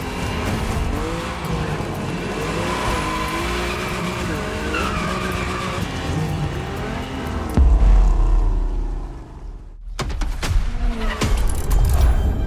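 A car in The Crew Motorfest, driven toward the Ferrari museum building, revs loudly and squeals its tyres in a continuous run, then gives a heavy low thump and a brief near-silent gap before the engine roar returns.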